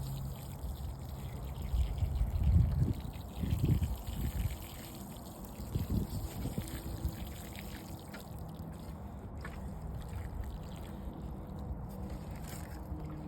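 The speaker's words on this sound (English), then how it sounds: "And now I'm going to make sure I water these in nicely" Water pours and trickles softly onto soil over newly planted carrots in a garden bed, with a few louder splashing bursts early on that then settle into a faint, steady dribble.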